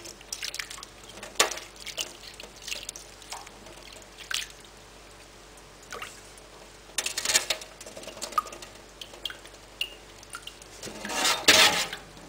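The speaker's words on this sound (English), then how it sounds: "I cut thin like this and then squeeze it in the water" Salted radish being cut thin and squeezed in a bowl of water while cleaning it for a Thai steamed sago ball pork filling, heard as faint scattered drips, splashes and clinks of a bowl and utensils, with a louder sloshing burst near the end.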